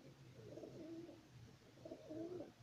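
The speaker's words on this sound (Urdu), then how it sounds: "ماشاءاللہ بھائی فضان کے اچھے کبوتر ہیں جناب" Sialkot breeder pigeons coo softly in a loft, two low rolling coo phrases repeating close by, faint and steady with no talking over them.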